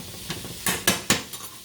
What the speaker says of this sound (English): So let that get good and hot and sauteed